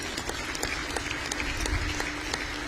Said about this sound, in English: Shall we just please have another big round of applause